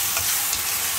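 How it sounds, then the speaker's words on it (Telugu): Bitter gourd (kakarakaya) pieces frying in a pan, giving a steady close sizzle with soft stirring scrapes over about a second, no voices. "ఇది బాగా ఫ్రై అవ్వాలండి"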